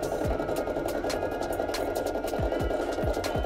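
A Brother PE800 embroidery machine stitching out the final stitches of a design, producing a loud, continuous mechanical whir with rapid repetitive needle ticking throughout.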